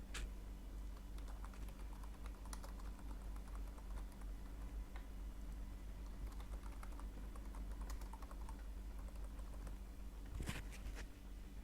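Fingers type on a computer keyboard with soft, rapid, irregular key clicks that continue close up and unbroken for several seconds, with no speech.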